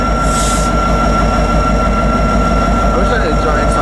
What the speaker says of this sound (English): here's the train we've been after all day coming through Beaumont, California.